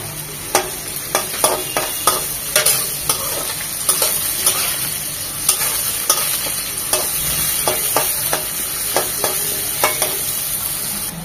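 Chopped onion frying with whole spices in a pan, a steady loud sizzle under rhythmic scraping stirs of a spatula, close up with no voices.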